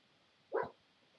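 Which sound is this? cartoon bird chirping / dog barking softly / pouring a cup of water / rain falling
dog barking softly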